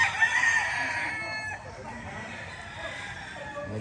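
A gamefowl rooster on a Mount Banahaw farm crows loudly and close at the start, its strained call trailing off after about a second and a half over quieter outdoor background noise.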